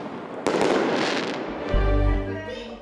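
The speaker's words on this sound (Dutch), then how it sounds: "Ook als het om vuurwerk gaat." New Year's Eve fireworks burst close and loud, a sharp crack followed by crackling and a deep rumbling boom that rolls on and fades, with no one talking.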